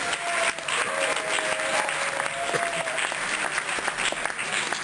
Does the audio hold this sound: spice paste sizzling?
no